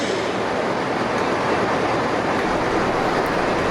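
A train hauled by steam locomotive 44871, carrying eleven coaches with two diesels on the rear, passes through Carlisle in torrential rain, giving a steady, loud rushing roar with faint rhythmic rail clatter and no voices.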